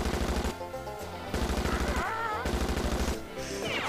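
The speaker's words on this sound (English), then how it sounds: "Although I am using machine guns" Rapid machine gun bursts from the Wii shooting game Chicken Shoot fire in loud, evenly spaced rattling volleys with short gaps between them, while brief game sound effects chirp in the background.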